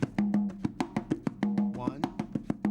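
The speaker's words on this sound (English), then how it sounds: "The Latin American beat is basically this." Latin American percussion rhythm played alone with sharp, evenly spaced hits in a steady repeating pattern, a sustained tonal note recurring between beats, close and lively.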